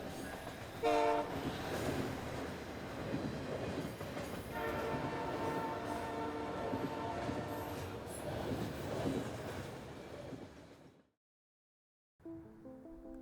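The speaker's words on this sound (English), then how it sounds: "Trains." At the East Lansing Amtrak station a train rumbles past with its horn blaring in several blasts over clattering wheels and faint squeal, the sound cutting to brief silence before more horn and rail noise return.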